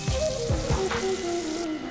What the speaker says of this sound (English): Dump all the chopped garlic and pickles in.